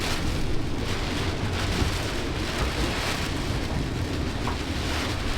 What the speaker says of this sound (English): you can see it coming in just the sheets of the rain